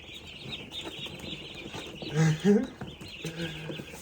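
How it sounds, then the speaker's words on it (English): Baby turkeys peep and chirp in a busy cluster nearby, with a couple of louder calls standing out over faint background talk. "So our baby birds have arrived."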